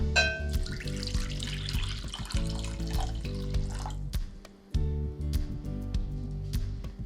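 Distilled water poured into a container for a homemade sensitive-skin lotion, a continuous close trickling and splashing that briefly stops near the end and then resumes.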